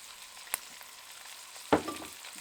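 Beef frying in oil with onion and pepper: a soft, steady sizzle with a sharp clatter early on, then a louder burst of hissing and crackling as more goes into the pan.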